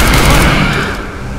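Gunfire in Left 4 Dead 2 on a Realism Expert campaign: a dense, loud burst of overlapping shots that rumbles continuously, then eases slightly toward the end, with no voices.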